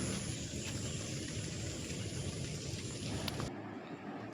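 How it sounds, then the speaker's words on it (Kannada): Heavy rain falls in a steady, dense hiss at moderate distance, with no talk, then cuts off abruptly near the end. "ಜೋರು ಮಳೆ ಬರ್ತಾ ಇದೆ"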